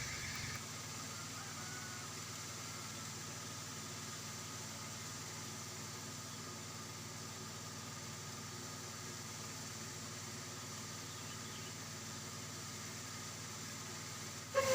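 A coffee hulling machine at a rural hillside village home runs in a steady, unbroken mechanical drone with a constant hum and hiss, heard alone without talk.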